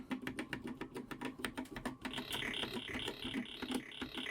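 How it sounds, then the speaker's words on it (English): Quick close keystrokes on a computer keyboard during Apple IIe gameplay, clattering for two seconds before a warbling electronic game tone takes over while scattered key presses continue. "Sorry for the keyboard noise."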